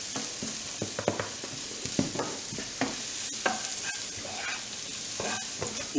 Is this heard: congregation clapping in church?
no